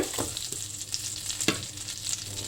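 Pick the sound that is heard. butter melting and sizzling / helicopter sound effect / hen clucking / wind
butter melting and sizzling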